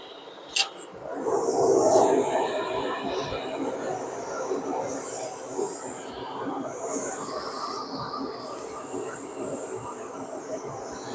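An airbrush sprays orange paint onto primed spoons in three loud bursts of airy hiss, each a second or two long, after quieter handling sounds and a faint background hum.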